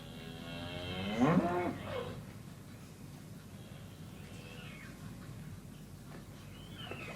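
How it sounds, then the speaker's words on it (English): A single low moo from a cow rings out early, followed by quiet outdoor ambience with faint distant sounds. "there's some cows. They're going down to the river to have a paddle"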